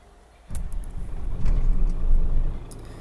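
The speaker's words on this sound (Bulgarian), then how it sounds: "Добре, сега да запалим камиона." A truck engine in Euro Truck Simulator 2 cranks and catches, then settles into a loud, steady low rumble that swells slightly over the next few seconds, with no talking.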